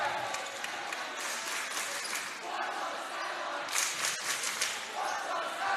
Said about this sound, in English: Both cheer blocks are in rare form tonight.